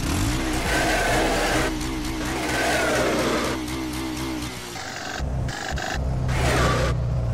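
A BMW G 650 GS motorcycle engine revving hard, rising and falling in pitch through several throttle pulls, loud and close, with no talk over it.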